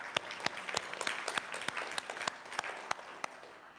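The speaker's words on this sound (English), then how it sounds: "Give them a round of applause." A small crowd applauds, scattered sharp claps over a dense patter of clapping, moderately loud and fading slightly toward the end.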